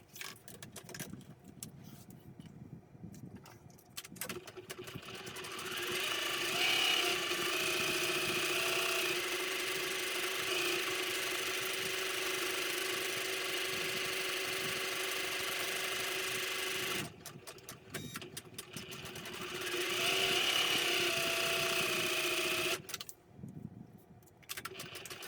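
A Janome Memory Craft 350e sewing machine embroiders a gnome appliqué, a steady, fast mechanical needle whir that runs for long stretches, stops briefly, and starts again, heard close and alone.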